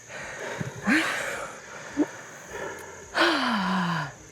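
Heavy, gasping breaths from someone catching their breath after walking uphill to a cabin in North Carolina, a few loud panting bursts close to the microphone with quiet pauses between them.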